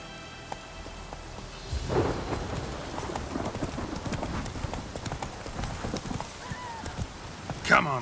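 Roach the horse gallops in The Witcher 3, a rapid run of hoof clip-clops over rain and distant thunder, moderately near, with a voice speaking over it.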